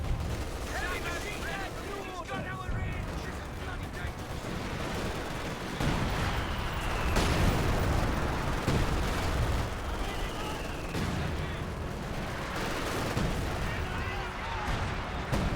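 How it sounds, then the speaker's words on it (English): Artillery fire in the game Company of Heroes 2 booms in a dense wartime battle din, with heavy blasts near the seven-second mark over scattered gunfire, while a voice talks throughout. "Artillery's gonna come down on the MG."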